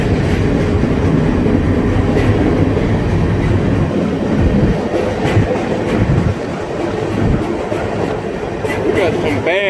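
Freight train carrying hazardous chemicals rolls past close by at restricted speed, a loud continuous rumble with steady clickety-clack of wheels over rail joints and occasional metallic squeals throughout.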